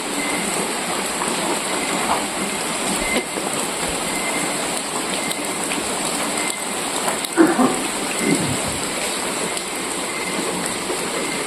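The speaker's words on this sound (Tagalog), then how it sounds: "Kahit maulan mga idol" Rain falls steadily outdoors at night, a dense, constant hiss of drops on surfaces, fairly loud and even throughout, with a few brief louder splashes and no talking.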